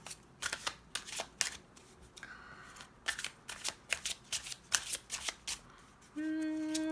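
Tarot cards are shuffled and flicked in a rapid series of close, crisp riffles and snaps, followed by a card drawn, ending with a sustained bright electronic tone.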